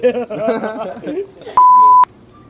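A checkout barcode scanner at a shop till gives one sustained, bright electronic beep lasting about half a second. Close speech comes just before it.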